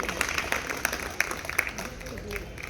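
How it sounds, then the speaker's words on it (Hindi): Scattered clapping from a small gathering welcoming a guest at a retirement function, a few sharp distinct claps over a light patter, with people talking faintly underneath. "जोरदार तालियां बजा के स्वागत करेंगे भाई साहब का।"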